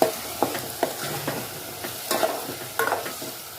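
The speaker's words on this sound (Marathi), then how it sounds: "आणि मसाला पण आपण हलवून घेणार आहोत." Spiced masala for a pomfret curry being stirred and fried in a pan, with a soft steady sizzle broken by several scraping stirs at irregular intervals, close and moderately loud with no voices.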